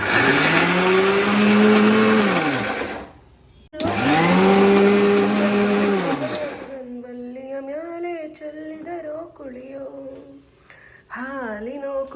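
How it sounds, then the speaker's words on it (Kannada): A mixer grinder chopping onions whirs loudly in two short bursts, its motor rising and falling, then stops as a person begins speaking. "ಈರುಳ್ಳಿನ ಒಂದು ಒಂದೆರಡು ರೌಂಡು ಮಿಕ್ಸಿಗೆ ಹಾಕೋಣ"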